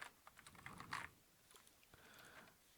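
Clicky keystrokes on a Gundam-edition mechanical keyboard fitted with blue switches, a quick uneven burst of close, crisp taps with a denser flurry midway, then scattered single presses.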